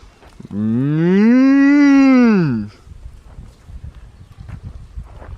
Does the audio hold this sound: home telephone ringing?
no